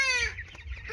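Poultry chickens in a farm house, about two weeks old, cluck and chirp steadily up close, a short burst of calls filling the moment with no talk.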